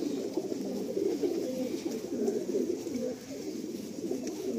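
An Andhra high flying pigeon cooing softly in a steady murmuring run of low coos, faint and close, with a light background hiss and no speech.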